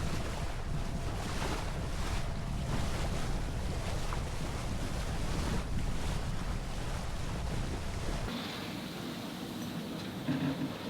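Sailboat hammering along fast in about 15 knots of beam wind in a sheltered Pacific Northwest passage, with steady rushing water, hull splash and heavy wind buffeting across the microphone throughout.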